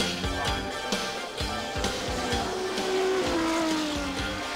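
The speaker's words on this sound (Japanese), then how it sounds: "2人の2連勝宣言を笑うかのように余裕でトップを走るカーナンバー5の高橋邦光。" Race car lapping a circuit in a Japanese race, with car number 5 leading; steady engine roar with a passing pitch sweep and tire noise, loud and continuous, no talk.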